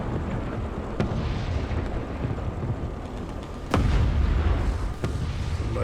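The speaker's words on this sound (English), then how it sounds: "I think he just got blown up" Tank blowing up in War Thunder during a battle with an M22 Locust light tank, heard as a deep booming blast among rumbling battlefield noise, with a few sharp distant cracks before and after the main burst.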